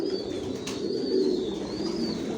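Racer pigeons coo softly and continuously in a breeding loft, low rolling calls overlapping at a moderate distance, with faint high whistling tones drifting above.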